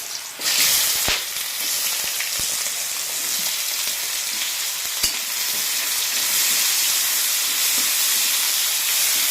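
Onions tossed into hot oil with cinnamon and black pepper for a mushroom curry, giving a steady, close sizzling hiss with occasional stirring clicks throughout, no voices.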